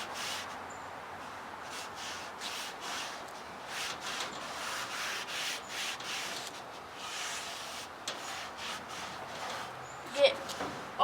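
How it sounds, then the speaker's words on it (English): A wet soapy rag scrubs across a new Blackstone griddle, making repeated quiet rubbing strokes in a steady back-and-forth rhythm. "and scrub down the griddle with it."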